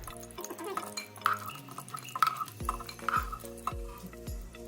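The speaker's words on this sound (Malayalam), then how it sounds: "ഇനി ഇതിലേക്ക് കുറച്ച് മുന്തിരിയും കൂട്ടി ഇട്ടിട്ട് ഫ്രൈ ചെയ്ത് കോരിയെടുക്കാം" Cashews and raisins frying in a pan for banana payasam, a soft sizzle with scraping stirs and light clinks of utensils, close and rhythmic, under a steady background hum with no talk.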